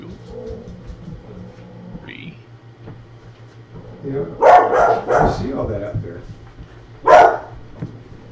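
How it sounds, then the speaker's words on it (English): Barks from a dog being walked outside, heard through a window about ten feet away. Several sharp barks land in a cluster and another follows moments later, over a quiet room with faint bird-like coos and murmured talk. "somebody's walking their dog and they're stuck"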